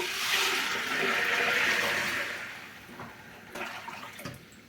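Water pours into a pot of beans, a loud rushing splash that fades over a couple of seconds, then gives way to quieter trickles and clinks.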